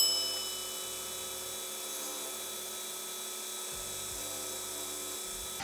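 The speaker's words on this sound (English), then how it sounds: "Turn the lathe down." A wood lathe runs steadily during a cut-and-polish finishing job, a faint continuous motor hum with a high whine and low rumbles coming and going.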